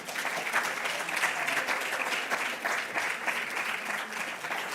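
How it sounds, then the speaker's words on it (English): Warm audience applause at a panel dialogue event, a continuous wash of many hands clapping at steady strength with no voices over it. "can you give them that warm round of applause?"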